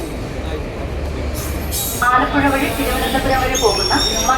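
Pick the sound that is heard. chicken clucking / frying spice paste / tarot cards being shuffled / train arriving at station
train arriving at station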